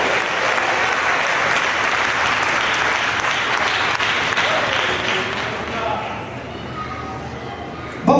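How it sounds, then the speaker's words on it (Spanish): Sustained applause from a church congregation praising the Lord during a service fills the space loudly and steadily, with a faint voice rising above the clapping. "Fuerte ese aplauso de alabanza al Señor."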